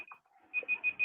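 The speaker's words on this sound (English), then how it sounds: "Was that the alarm for end of time?" An alarm signalling the end of time gives a brief tone, then four quick, evenly spaced electronic beeps, close and clear with no talking over them.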